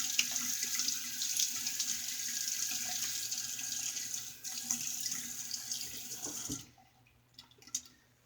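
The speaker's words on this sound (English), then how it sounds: "Let me get a rinse here." Tap water runs steadily into a sink while a slant safety razor is rinsed under it, a close, hissing splash that stops abruptly near the end, leaving faint drips and small knocks.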